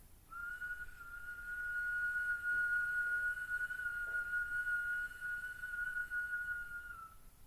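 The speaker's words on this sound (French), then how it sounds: "Quand on inspire par la bouche avec ce sifflement" A steady, thin whistling tone from someone drawing breath in through the mouth during yoga breathing practice, sustained for several seconds close up in a quiet room, with no talking.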